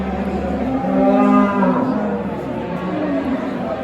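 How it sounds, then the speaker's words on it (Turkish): A large calf moos at a crowded livestock market in Ilgın, Konya, ahead of the Kurban sacrifice season. One long, loud, close low moo rises and fades over a murmur of background chatter. "Pazarın şu an gördüğüm en büyük danası."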